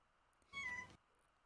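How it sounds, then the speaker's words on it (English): A house cat gives a single short, clear meow, faint and somewhat distant, amid near silence. "Cat."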